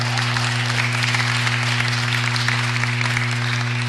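Audience applauding at a city planning and land use committee meeting, a steady dense clapping wash held for the whole stretch over a constant low electrical hum, with no voices above it.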